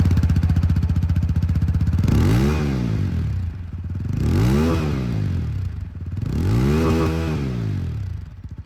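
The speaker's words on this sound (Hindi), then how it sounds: "चलिए अब इसकी जो एग्जॉस्ट साउंड है वो भी मैं आप लोगों को सुना दूँ।" TVS Apache RTR 200 4V motorcycle exhaust, an E20 OBD-2 model, idling steadily then revved three times in smooth rising-and-falling swells, loud and close with no talk.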